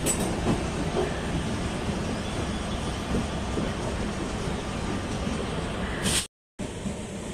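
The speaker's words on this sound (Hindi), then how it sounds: "इस ट्रेन ने काफ़ी अच्छी स्पीड मेंटेन की" Gorakhpur Express train running on rail track at speed, a loud steady roar of wheels and carriage rumble with faint rhythmic clatter, briefly cut out near the end.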